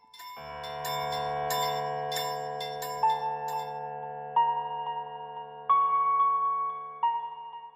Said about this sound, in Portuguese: um quase inaudível som de sinos.